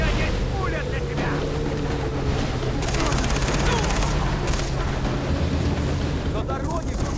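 Machine gun fire rattles in Far Cry 3 over the steady drone of a boat engine and rushing water, with several rapid bursts cutting in and out and a voice speaking briefly.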